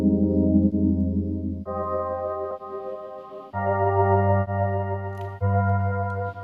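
Vintage R&B keys in FL Studio processed with filter, flanger and LFO effects, playing sustained chords that shift every second or two with a slightly swirling, muffled texture, and no voices.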